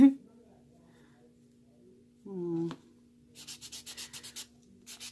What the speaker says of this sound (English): just keep on sanding and buffing until you get it to the way you like it